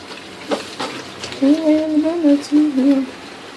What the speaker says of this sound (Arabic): كتبقى تخلطها هكا مزيان حتى كيتمزجوا المكونات كاملين مع بعضهم مزيان